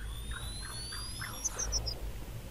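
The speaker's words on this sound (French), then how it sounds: "Ah non, c'est juste un bip-bip-bip." Beeping device in the video game Star Wars: The Old Republic gives a short series of four quick, high electronic beeps over a faint, low game ambience.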